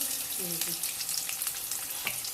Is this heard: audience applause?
no